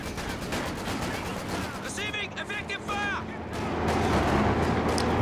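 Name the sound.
Vickers machine gun fire in Company of Heroes 2 video game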